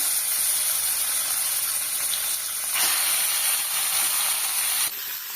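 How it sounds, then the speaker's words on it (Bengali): Large pieces of beef for Peshawari namkeen gosht fry in a pot with a loud, continuous broadband sizzle and hiss. The sizzle dips briefly near the end, with no voices. "মাংসটা দিয়ে আমি একটু ভেজে নিয়েছি"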